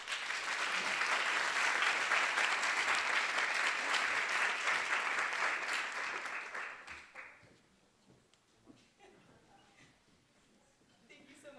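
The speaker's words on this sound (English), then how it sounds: "join me in a round of applause for Tarina Ahuja, the IOP Director of Diversity and Outreach" An audience at the John F. Kennedy Jr. Forum applauds for a speaker, a loud, sustained wash of many hands clapping for about seven seconds before fading out into scattered claps and room noise.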